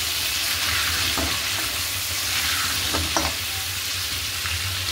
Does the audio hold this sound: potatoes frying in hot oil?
yes